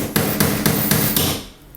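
A hammer taps a nail into wood with five evenly spaced, light but crisp blows, close and loud, followed by a brief scrape. No one speaks.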